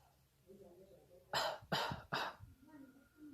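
Three short, light coughs in quick succession as a long COVID breathing rehabilitation exercise, close and clear, with quiet breathing before and after.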